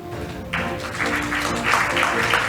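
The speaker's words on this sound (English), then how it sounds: "And applause, please." Applause breaks out at an academic awards ceremony, a quiet room swelling into a steady mid-level clapping from a modest audience that builds slightly over a couple of seconds.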